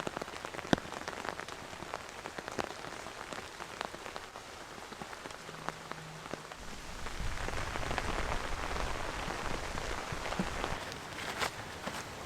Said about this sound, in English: it's raining so badly